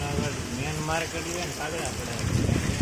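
Heavy rain falls on a main market street, a steady, dense hiss of drops on surfaces heard close, with a voice speaking over it.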